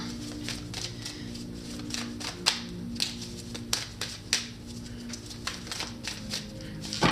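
Tarot cards being shuffled by hand, a string of sharp, quick riffling snaps and slaps at an irregular rhythm, close and fairly quiet, with a faint low hum underneath.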